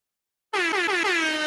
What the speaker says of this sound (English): air horns for that.